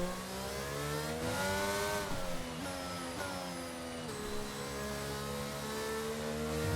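A Williams Formula 1 car in a racing video game, driving on a wet track, accelerates hard out of a corner. The engine note climbs through rising gear sweeps, with a brief dip between shifts, and it stays loud and close throughout.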